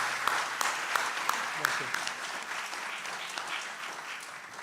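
Lecture audience applauding after a keynote talk, a dense steady wash of many hands clapping throughout, with a brief spoken word of thanks over it.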